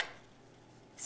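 A knife slices through apples for a rustic apple tart, giving two quick, faint cuts against the board, one at the very start and one just before the end, in a quiet room.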